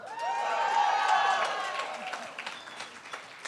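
An audience applauds a speaker at a university leadership institute's anniversary celebration, clapping swelling quickly to a full round and then thinning out into scattered claps over a few seconds.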